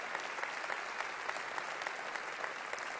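A church congregation at Lakewood applauds in welcome for Pastor Andrés Corson: dense, steady clapping from a large crowd that fills the room for three seconds without a break.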